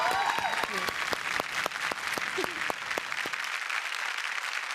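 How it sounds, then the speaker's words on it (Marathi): An audience claps for a dance performance on a televised dance competition stage, a dense, steady round of applause with sharp individual claps carrying throughout. "तुम्हाला खूप सारा टाळ्या"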